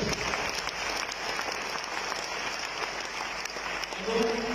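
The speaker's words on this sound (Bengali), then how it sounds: "আমরা সর্বোচ্চ করতালি আজকে আমাদের ফাউন্ডার সিরিজের জন্য করতে চাই।" An audience claps steadily through a 12th anniversary stage program celebrating its founders, a dense, sustained round of applause from a hall full of people, even and fairly loud from start to finish.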